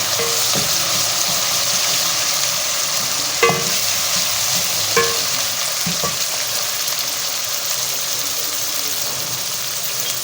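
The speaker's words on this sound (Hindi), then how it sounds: "इसमें 1 टेबल स्पून जो है वो अदरक लहसुन का पेस्ट डालेंगे और इसे थोड़ा सा पका लेंगे" Ginger garlic paste sizzles and fries steadily in a pan for a bhindi gosht curry, a continuous hiss with a few soft clinks of stirring, loud and close throughout.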